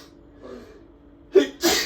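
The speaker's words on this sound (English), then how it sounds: "I'm going to sneeze." A single sneeze: a short indrawn breath followed by a sharp, close burst, then a brief trailing exhale.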